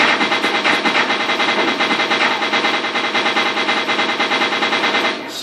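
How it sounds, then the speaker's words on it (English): Rapid automatic fire from the Phantom SMG in Garry's Mod, part of a Goldeneye weapons pack, a loud, fast, unbroken stream of gunshots lasting about five seconds before cutting off. "Next up, we've got the Phantom. And it looks like an SMG."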